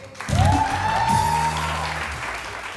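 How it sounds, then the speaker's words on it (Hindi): A studio audience on a Pakistani Independence Day morning show breaks into applause, a dense burst of clapping that swells quickly and then holds at an even level, with a little voice over it. "बहुत सारी तालियां तहरीम के लिए"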